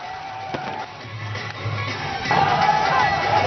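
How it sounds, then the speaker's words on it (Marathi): Cricket fans celebrating India's Champions Trophy 2025 win in the streets around Shivaji Park, Mumbai: a steady roar of crowd noise with cheering that swells louder toward the end. "क्रिकेटप्रेमी जे आहेत ते सगळे रस्त्यावर उतरलेले आहेत मोठा जोश जल्लोष सध्या या क्रिकेट प्रेमींमध्ये आपल्याला पाहायला मिळतोय"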